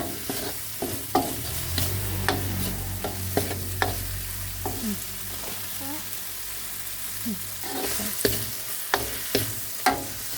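Crab meat is stir-fried in a pan for crab fried rice, with steady sizzling and repeated scraping, clattering stirs of a utensil against the pan, up close, while people talk faintly in the background.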